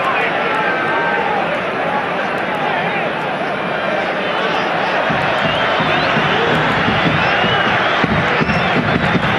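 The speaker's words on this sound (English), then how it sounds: "Crowd rousing them on now." A football stadium crowd roars continuously in support of its side during a La Liga match between Real Zaragoza and Valencia, a dense, loud wash of cheering that swells slightly toward the end, with a voice faintly audible over it.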